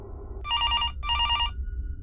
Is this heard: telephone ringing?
yes